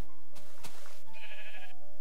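Sheep bleating in short wavering calls, a couple of cries standing out above a steady background hum, fairly close and alone without talk.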